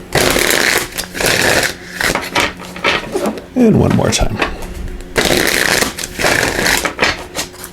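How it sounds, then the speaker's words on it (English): Loud, close shuffling of tarot cards in repeated riffling bursts, with a person briefly speaking midway between shuffles. "Just give these a quick shuffle."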